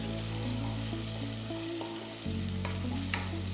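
A tomato mixture sautéing in a pan, a soft, steady sizzle and stir heard up close and quietly under a low, continuous hum, with no speech.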